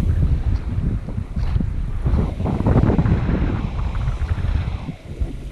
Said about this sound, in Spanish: se levantó un poco más fuerte el viento sur